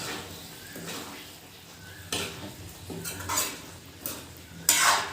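A utensil stirs and mixes food in a pan with a little water during home cooking. Soft scraping and clinking come in uneven strokes, some sharper knocks against the pan, fairly quiet and close.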